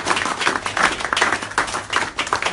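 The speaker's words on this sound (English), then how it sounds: "A big round of applause." An audience claps in a round of applause at a business presentation, with dense, continuous clapping that swells and dips in waves through the moment, close and fairly loud.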